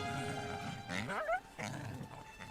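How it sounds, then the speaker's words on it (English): Coyotes attacking a wolf in Yellowstone, a close snarling and growling scuffle with sharp yelping cries rising in bursts before settling back into low growls. "Wolves are usually top dog, but the coyotes come at him from all sides."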